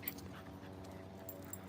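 A dog whimpering softly and panting in quick, steady breaths, faint and close, with a low background hum throughout.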